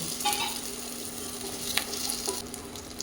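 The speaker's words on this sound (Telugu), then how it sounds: "ఇప్పుడు ఇందులోనే మనం వేపించుకున్న చామదుంపల ముక్కలు వేసేసుకోండి." Taro root pieces stir-fry in a pan with chili powder, green chilies and curry leaves, giving a steady close sizzle broken by a few short stirring scrapes.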